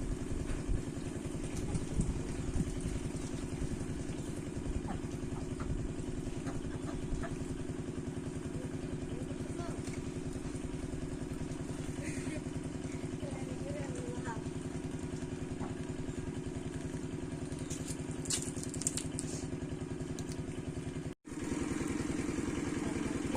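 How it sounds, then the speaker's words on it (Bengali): A shallow irrigation pump engine drones steadily as it waters farm fields, a constant chugging hum heard from some distance, with a brief cut near the end. "ওইখানে শ্যালো মেশিন দিয়ে পানি দিতেছে ক্ষেত খামারে"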